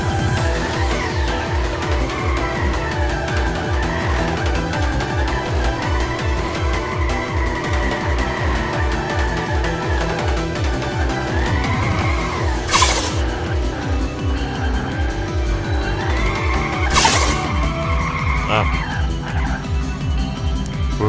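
A red car drifts through a forest in the video game Drift86 V3, its engine droning steadily throughout, with sharp tire squeals and skids cutting in twice near the end.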